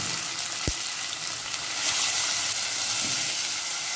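Chopped onions fry in about two big spoons of ghee, a steady bright sizzle and hiss that swells slightly midway, with one faint tap near the start.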